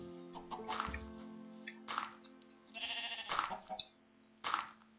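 Sheep bleating in Minecraft: a handful of short, nasal baa calls spaced a second or so apart, moderately close over a quiet steady background hum.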